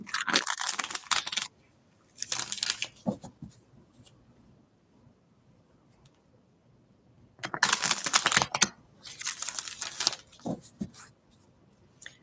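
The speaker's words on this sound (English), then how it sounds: "While I'm shuffling these guys" Tarot cards being shuffled by hand, crisp papery riffling bursts that come and go in several short bouts separated by quiet gaps, close to the listener with no speech.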